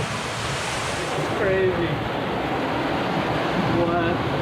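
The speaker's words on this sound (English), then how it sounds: "All you hear is just water rushing." Water rushes loudly and steadily through a river cave in Khao Sok National Park, Thailand, with a constant roaring wash and brief voices speaking over it.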